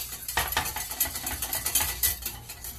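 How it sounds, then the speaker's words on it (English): A spoon or whisk stirs a hot lemon mixture in a pot, producing continuous rhythmic scraping and clinking against the metal, close and moderately loud. "just want to keep stirring it"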